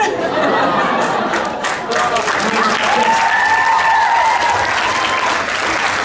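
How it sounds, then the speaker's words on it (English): Audience applause at a Hocus Pocus 30th anniversary reunion panel in 2023: steady, full crowd clapping for the whole stretch, mixed with light chatter and a few chuckles. "Thank you for applauding my subpar English accent."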